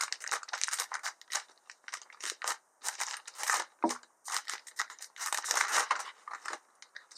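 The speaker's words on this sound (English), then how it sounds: "So get that plastic off there" Plastic wrapping is pulled and peeled off an iPad keyboard dock, close-up crinkling and tearing in quick irregular bursts with short pauses between, crisp and fairly quiet.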